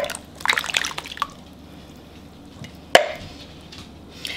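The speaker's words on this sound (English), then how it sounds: "you're going to pour two cans of peaches in here." Canned peaches poured from two cans into cobbler batter in a baking dish, giving a short wet slosh and dribble followed by a single soft splat, near and fairly quiet with no talking.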